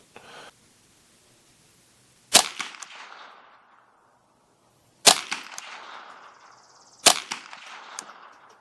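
A custom Ruger 10/22 with a carbon fiber barrel fires Aguila Super Extra 38-grain .22LR hollow points: three sharp, loud single cracks spaced a couple of seconds apart, each trailing off into an echo, with no talking.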